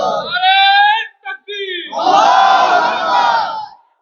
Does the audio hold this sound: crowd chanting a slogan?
yes